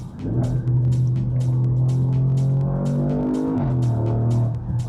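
An Audi S7 engine drones steadily and loudly while driving, its pitch holding level before dipping briefly near the end, with no voices.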